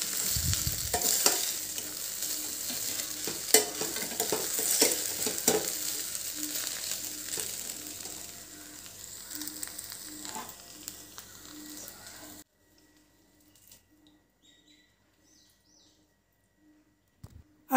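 Sweet potato rice sizzles and scrapes in a hot pan as it is stirred for several seconds, then the sizzling cuts out abruptly into near silence.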